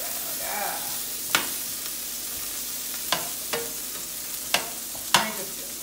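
Vegetables for ratatouille sizzling and browning in a pan, a soft steady fry under several sharp scrapes and taps from a spoon stirring.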